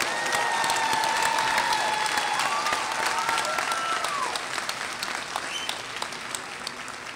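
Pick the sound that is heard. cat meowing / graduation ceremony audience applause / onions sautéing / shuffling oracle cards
graduation ceremony audience applause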